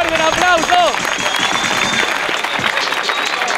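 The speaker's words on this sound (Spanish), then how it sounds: "¡Fuerte el aplauso!" Crowd applause and cheering erupt at a live rap battle, loud and sustained through the whole stretch, with voices shouting over it.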